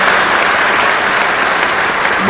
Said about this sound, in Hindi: ताली भी कम बजा रहा है आपको।